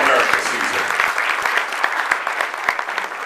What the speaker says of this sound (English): let's give her a round of applause on her All-American season.